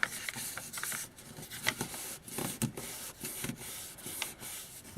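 Rolled paper being folded over by hand for a paper basket gives soft, close rustling and rubbing with brief crinkles, quiet and continuous.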